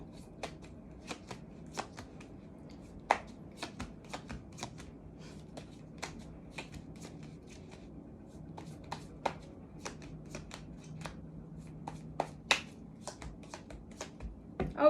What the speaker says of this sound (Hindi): Let's see one more shuffle.